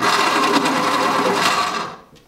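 An electric pencil sharpener grinds a 2B pencil with a loud, close, steady whirring buzz for about two seconds, then winds down and stops.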